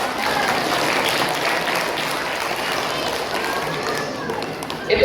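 Teachers clap together at a school speech, a steady broadband patter of applause holding for several seconds at even loudness, with a voice briefly heard near the end.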